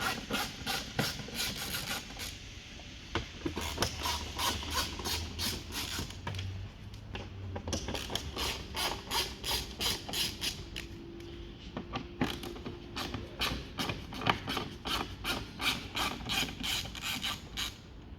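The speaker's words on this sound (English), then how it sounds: "undo the 4 T25 screws along the top of the grille" Rapid ratcheting clicks and creaks of a T25 Torx driver undoing screws on the top of a VW Tiguan Mk2 front grille, repeated in bursts, close and fairly quiet.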